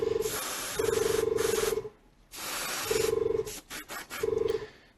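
Airbrush spraying paint onto a Warhammer Tyranid Harpy miniature: bursts of steady hissing spray, each about a second long, separated by brief pauses, loud and close with no talking.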